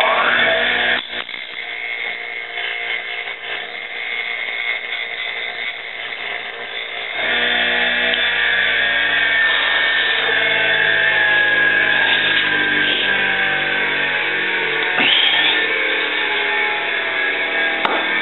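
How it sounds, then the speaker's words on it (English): A handheld power grinder runs continuously and loudly, grinding off a rivet head, its whine holding steady for a while before shifting to a harsher, heavier grind as it bites harder into the metal. "I'm going to grind that one just a little bit more"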